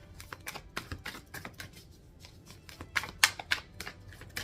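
Tarot cards being shuffled by hand make quiet, crisp flicks and taps in irregular bursts, with short pauses between them and a few sharper snaps near the end.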